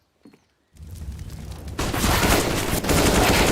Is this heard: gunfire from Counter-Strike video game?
yes